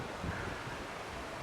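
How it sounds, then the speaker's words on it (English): Strong hurricane wind blasts steadily past the microphone outdoors during Hurricane Ian, a constant loud roar with gusty buffeting and rustling, no voice heard. "there's really high winds"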